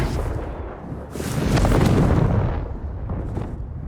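A Confringo blasting spell in Hogwarts Legacy goes off as a loud, rumbling explosion that swells to a broad roar around its middle, then fades into a rolling tail, with no voices over it.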